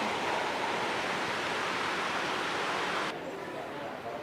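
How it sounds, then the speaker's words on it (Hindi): Water of the Banganga river flowing beside the Chamunda Devi temple, a dense continuous rushing wash, close and loud, that drops abruptly to a softer level near the end. "चामुंडा देवी मंदिर बंकर नदी के किनारे बसा हुआ है"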